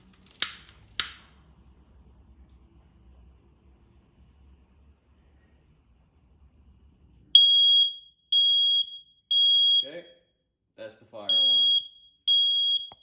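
A combination smoke and carbon monoxide detector held near a burning wet rag sounds its alarm: after a quiet stretch with a couple of sharp knocks, loud, piercing electronic beeps repeat in a steady pulsed pattern, with a brief gap partway through.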